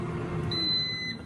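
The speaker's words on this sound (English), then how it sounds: "I heard it beep." A single high electronic beep from a Chefman air fryer rings out briefly over a low background hum.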